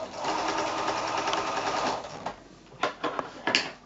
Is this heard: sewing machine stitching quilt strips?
yes